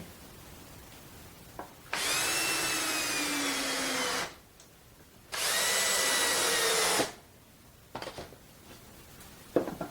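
Power drill driving screws into 2x4 boards for a wooden Christmas tree, two sustained whirring bursts of a couple of seconds each, close and loud, with faint handling knocks around them.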